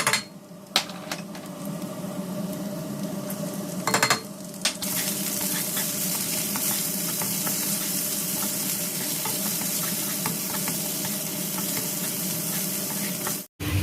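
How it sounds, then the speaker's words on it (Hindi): Garlic and chilies fry in a pan with a steady, close sizzle and crackle lasting throughout, broken early by a few utensil knocks and stirring sounds, with no speech. "जी तो यहाँ पे गार्लिक एंड चिलीज़ ये अच्छे से फ्राई हो गई हैं"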